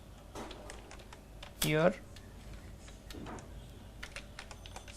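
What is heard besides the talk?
typing on a computer keyboard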